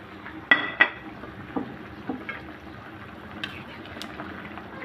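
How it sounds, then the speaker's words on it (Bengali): Fried rui fish pieces go into a bubbling pumpkin curry and are mixed in, with two sharp clanks of a spoon on the pot early, then softer scrapes and faint clinks over a low simmer. "এখন দিয়ে দেবো ভেজে রাখা মাছগুলো"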